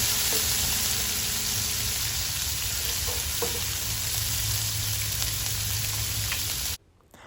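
Chopped onion frying in a pan for a grey snapper stew, a steady dense sizzle that holds loud and even for several seconds before cutting off abruptly near the end.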